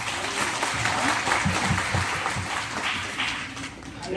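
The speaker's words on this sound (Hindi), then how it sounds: "जोरदार ताली से स्वागत करें।" A training-session audience applauds to welcome master trainers and guests, steady clapping filling the room for about four seconds at a moderate, even level.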